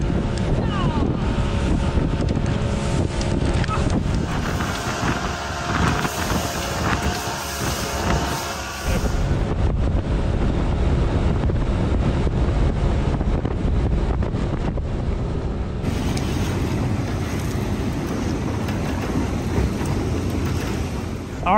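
A boat motors along a river while strong wind buffets the microphone, a constant loud rushing roar over the engine and water noise throughout.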